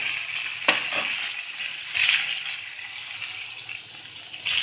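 Water pours steadily into a pan of pumpkin and chickpea curry, a close hissing splash with a few sharp clinks and knocks.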